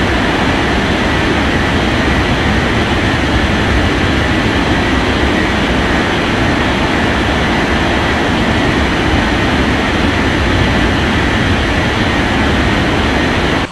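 A jet airliner roars down the runway on its takeoff run in the Unmatched Air Traffic Control game, a loud, unbroken engine rush that fills the whole stretch, with no voices over it.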